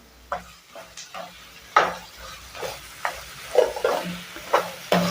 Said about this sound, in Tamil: வெங்காயம் வந்து நல்லா வதங்கி வரட்டும்